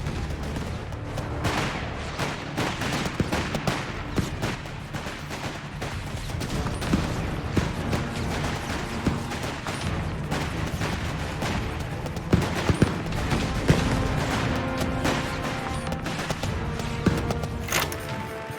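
Battle gunfire in Company of Heroes 3 in North Africa, with dense overlapping rifle and machine-gun bursts, heavy thuds and distant explosions rolling on continuously at steady loudness.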